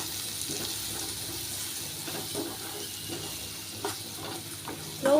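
Curry leaves and ground masala sauté in a pan for a Tamil curry leaf kuzhambu, giving a steady soft sizzle with scraping stir strokes and a few louder clinks, no talking.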